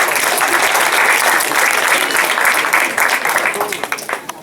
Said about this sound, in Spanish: un fuerte aplauso por favor para el ganador